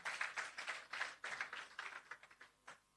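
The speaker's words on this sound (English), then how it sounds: "Give her a round of applause" An audience claps at a handing over ceremony for a shelter recovery programme, a short burst of faint, distant applause that fades out over a few seconds.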